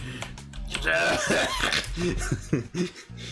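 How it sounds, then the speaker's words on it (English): A man coughs hard and hacks as if clearing his throat, a loud, rough burst with a few sharper spasms near the end, close by against faint background noise. "It's like he coughs up his whole throat."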